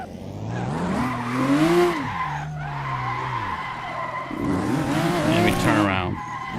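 Tires skid and squeal through a drift in the Assetto Corsa racing game, a loud wavering screech with engine tone that rises, dips around the middle, then surges again, steady and close throughout.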